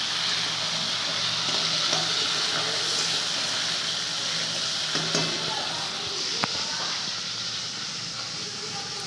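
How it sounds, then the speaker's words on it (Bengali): Prawns frying in salt in a pan give a continuous dense sizzle that stays loud and even for several seconds, with a few faint clinks and one sharp tap near the end. "প্রথমে আমি এরকম নুন দিয়ে চিংড়ি মাছটা ভেজে নিচ্ছি"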